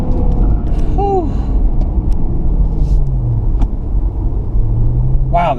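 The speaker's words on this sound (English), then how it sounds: "Wow, this car is fun and fast." An Infiniti Q50 Red Sport driven fast, heard from inside the cabin as a loud, continuous low engine and road rumble, with a person talking over it.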